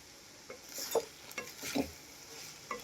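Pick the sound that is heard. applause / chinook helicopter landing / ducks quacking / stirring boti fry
stirring boti fry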